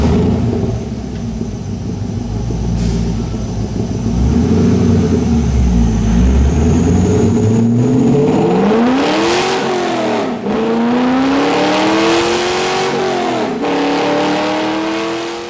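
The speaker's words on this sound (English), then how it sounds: "let's take this mildly modified C5 to the dyno to see how the BBK headers and exhaust system improve the performance overall" A mildly modified Corvette C5 LS engine with BBK headers and a high-flow catted X-pipe exhaust on a dyno, idling loudly, then revving hard through rising pulls and a second run, close and alone.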